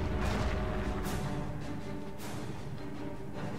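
Heavy gunfire and booming explosions in the WWII strategy game Company of Heroes, with machine guns among the noise. Two sharp blasts stand out over a constant rumbling battle din, fairly quiet overall.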